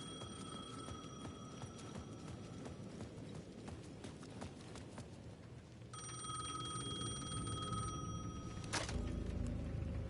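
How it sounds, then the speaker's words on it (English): An electronic payphone bell rings persistently in the video game Alan Wake 2, over a steady ambient bed with faint tapping, growing louder partway through. "The payphone at the edge of the plaza was ringing again."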